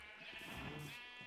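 A sheep in the Minecraft video game gives one drawn-out, wavering bleat, faint but clear against a steady background hum.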